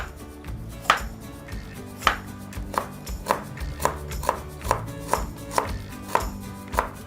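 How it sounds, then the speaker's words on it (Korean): A knife chops carrots on a cutting board for bibimbap vegetables, about a dozen crisp, close knocks arriving in a steady, slightly quickening rhythm with no talk. "당근을 썰겠어요."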